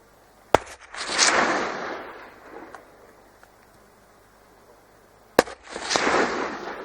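Two sharp rifle shots ring out while hunting deer in a New Zealand national park, each a single crack followed by a long rolling echo fading across the landscape.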